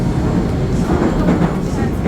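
A Saint Petersburg metro train in a station on a line built in 1955 produces a loud, continuous rumble and roar of wheels and carriages that fills the whole stretch.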